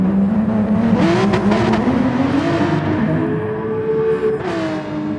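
Porsche 911 race car engines in the GT Sport video game roar loudly and steadily as they accelerate hard side by side in a drag, the pitch climbing through gears and then easing off under braking.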